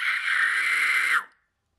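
A fry scream made with the throat clenched too hard, one sustained strained and harsh distorted vocal burst lasting just over a second, loud and close, then cutting off to silence.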